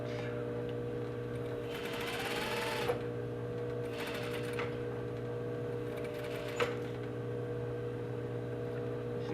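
A sewing machine runs close and steady, stitching a J-stitch along a fly front, with a constant motor hum, short bursts of faster stitching and a couple of sharp clicks.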